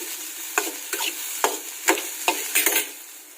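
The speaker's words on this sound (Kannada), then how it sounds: "ನಾನು ಸ್ವಲ್ಪ ಎಣ್ಣೆ ಹಾಕಿ ಹುರ್ಕೊತಾ ಇದ್ದೀನಿ" Bitter gourd fries in a little oil while being stirred, giving a low background sizzle broken by a series of sharp, close scraping clacks from the spatula.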